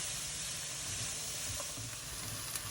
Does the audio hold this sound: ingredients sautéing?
yes